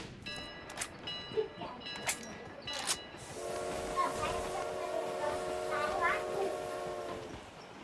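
A train rolls through a battle royale video game, giving a steady rumble and then a sustained multi-tone horn-like blare for several seconds, with players' voices chatting over it.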